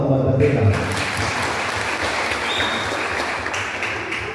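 An audience at a church choir competition prize announcement claps together in a dense, sustained round of applause, steady and fairly loud with a voice briefly heard at the start.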